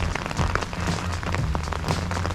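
Rain falling steadily on a rainy afternoon in Annapolis, Maryland, a dense even patter of drops hitting surfaces, close and continuous with no talk.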